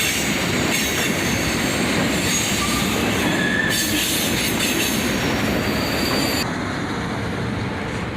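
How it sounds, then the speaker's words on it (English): A Norfolk Southern freight train rolls past with the Pennsylvania heritage unit trailing, a loud continuous rumble of wheels on rail with faint squeals, steady and close for the whole stretch. "Norfolk Southern train with a heritage unit trailing"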